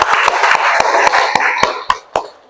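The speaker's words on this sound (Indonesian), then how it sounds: "tepuk tangan terlebih dahulu untuk hari ini" A school class claps together at the end of a lesson, starting as a quick ragged burst of many hands and thinning into a few separate, sharper claps.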